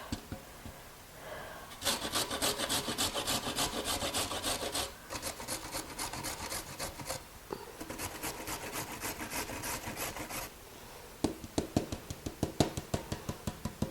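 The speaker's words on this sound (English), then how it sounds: "I'm going to take my box grater and grate the carrots." Carrots rubbed hard against a metal box grater in long, rapid rasping strokes, loud and close, pausing briefly between runs and ending in quicker, choppier scrapes, with no talking.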